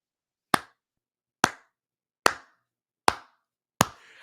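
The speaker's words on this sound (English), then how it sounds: "I'm just sitting here clapping" Five sharp, separate hand claps ring out at an even, slow pace, each one crisp and close with a short decay into silence.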